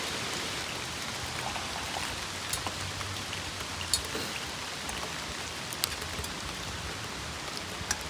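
Steady rain falls at a fall car-camping site, a soft, even patter with a few sharper drops landing nearby, and no one speaks.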